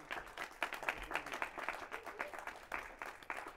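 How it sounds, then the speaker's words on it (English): Scattered clapping from a small group, steady but fairly quiet, heard from a distance. "Good applause for them."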